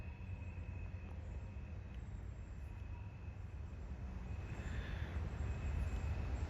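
A Norfolk Southern mixed manifest freight train rolling past around a bend, a faint, distant, steady rumble of wheels and cars with no voices.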